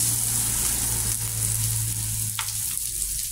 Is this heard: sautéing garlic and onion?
yes